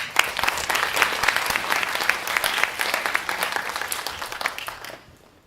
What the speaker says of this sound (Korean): 모두 이 아름다운 사진을 위해 큰 박수 부탁드립니다